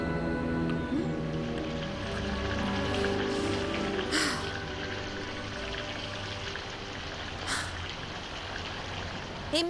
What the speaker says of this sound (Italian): Solamente a me succede che piove con il sole.